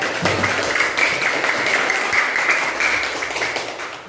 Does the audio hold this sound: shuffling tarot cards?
no